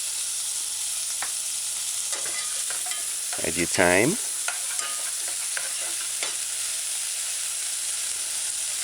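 Tomatoes frying and being stirred in a pan for a broad bean pepper stew, a soft steady sizzle with scraping stirs and a brief louder hiss in the middle; a voice speaks briefly.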